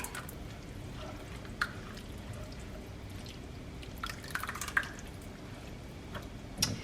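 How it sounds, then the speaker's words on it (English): Meat-flavored ragu sauce pouring into a lasagna dish, faint wet drips and a few soft splats scattered over a quiet, low background. "I'm going to add my ragu sauce. And this is the one that's flavored with meat"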